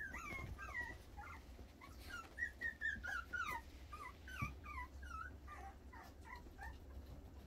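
A dog whimpers and whines in a series of short, high-pitched cries, fairly close, with a steady low hum underneath.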